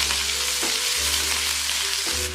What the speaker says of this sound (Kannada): ಈರುಳ್ಳಿ ಪೂರ ಮೆತ್ತಗಾಗಬೇಕು, ಅಲ್ಲಿವರೆಗೂ ಇದನ್ನು ಫ್ರೈ ಮಾಡ್ಕೊಳ್ಳಿ.